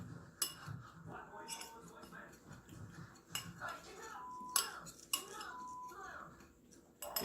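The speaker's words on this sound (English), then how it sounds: "We're going to whisk that together with a fork." Dry ingredients for keto brownies, including pink Himalayan salt, whisked with a fork in a bowl, giving quiet irregular clinks and ticks of metal against the dish, close and faint, with soft background movement.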